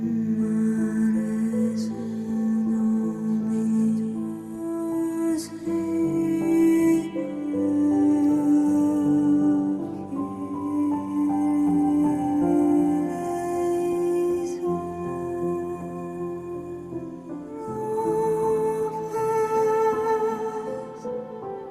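Sung legato vocal syllables from the Ethera Gold Atlantis solo vocal library, accompanied by the Lost Piano instrument from Westwood, drift through sustained, flowing melodic phrases over a soft piano bed, steady and moderately quiet, with no speech.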